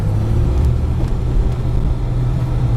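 A truck climbs a hill on light partial throttle. A loud, steady low engine drone and road rumble are heard from close by, with no voices.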